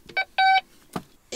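A metal detector sounding over buried metal while digging on a wooded plot, giving a few short, sharp electronic beeps with one longer tone between brief gaps, close and clear.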